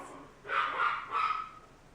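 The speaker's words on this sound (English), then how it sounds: "my dog is like barking her" Two muffled dog barks in quick succession, somewhat distant, against a quiet indoor background.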